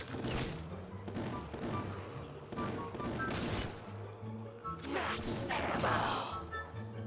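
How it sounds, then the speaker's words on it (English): Death machine minigun firing in Black Ops 3 custom zombies on a Minecraft-style map: a dense, continuous rattling barrage of rapid shots with crashing impacts, steady and moderately loud throughout. "Oh, death machine."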